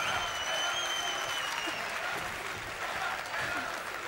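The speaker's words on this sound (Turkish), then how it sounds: "Güzel bir alkış yapar mıyız lütfen?" Audience applause rolls on steadily as a broad wash of clapping, moderately loud, with a faint whistle early on and a few voices underneath.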